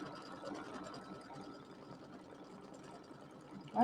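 An embroidery sewing machine stitches a pillow design with a steady, continuous mechanical whir at moderate level throughout, with a louder burst right at the end.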